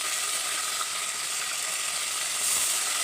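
Tripe (boti) hitting a hot pan and sizzling, a loud, dense, steady hiss that holds constant and rises slightly near the end, with no talking.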